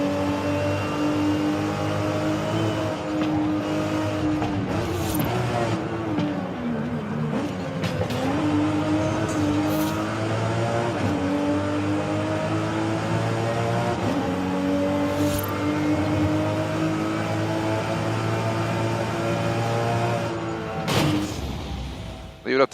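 Car engine in Forza Horizon 5 on Xbox Series X, a steady loud drone with harmonic tones rising and falling as it accelerates and shifts, continuing throughout with a brief drop near the end; a voice talks over it at times.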